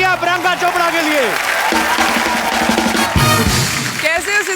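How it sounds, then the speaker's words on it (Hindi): A studio audience applauds Priyanka Chopra's entry on The Kapil Sharma Show, sustained clapping mixed with loud music and voices talking over it. "जोरदार तालियां प्रियंका चोपड़ा के लिए।"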